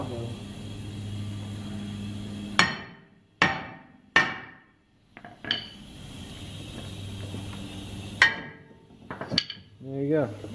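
Hammer blows ring out on the brake rotors of a 2005 Dodge Magnum R/T, several sharp metallic clangs spaced irregularly, over a background hum and light clinking of tools.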